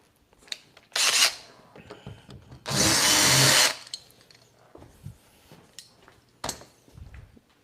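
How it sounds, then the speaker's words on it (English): A power drill backs screws out of door hardware in two loud whirring bursts, a short one and then a longer, sustained one, with small clicks and handling knocks in the quieter gaps. "So you need a drill."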